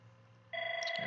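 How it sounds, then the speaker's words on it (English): A telephone starts ringing partway through, a sudden loud electronic tone that cuts in over a quiet room and holds steady to the end. "I apologize for the phone call."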